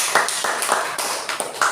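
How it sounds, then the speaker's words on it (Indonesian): A short burst of scattered hand clapping from a small group, uneven and moderately close, with no talking over it. "tepuk tangan untuk kelompok 2"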